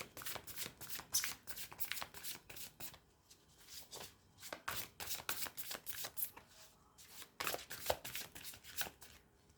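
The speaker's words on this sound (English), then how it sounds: "Let me just shuffle your cards." Tarot cards are shuffled repeatedly in quick riffling bursts, close up, with short pauses between rounds and no talking.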